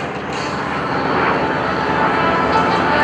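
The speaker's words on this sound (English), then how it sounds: "Coming in from the left, our trainers continue as we see the 2 Stearman aircraft" A Stearman biplane trainer flies past at an airshow with a steady, loud, droning piston-engine roar that swells slightly as it passes, with the commentary voice low under it.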